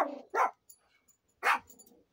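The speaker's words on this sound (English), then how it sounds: "Bark it out, Gruff." A dog gives two sharp, loud barks about a second apart, close by, with quiet between them.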